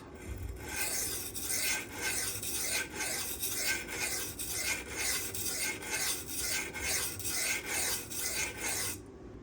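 A custom Rotten Design Evo 4.0 Damasteel knife edge is run repeatedly across a sharpener to strip tape from the bevel, producing a steady series of close rasping strokes, about a dozen in rhythmic succession, with no talking.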